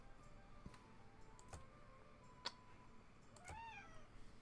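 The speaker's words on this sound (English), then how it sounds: "You're meowing at me." A pet cat meows close by, with a few short calls spread across a quiet indoor room and a longer rising meow near the end.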